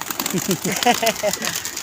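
Pigeons at a pigeon club give soft, repeated cooing calls close by, with a light flutter-like texture and faint background voices.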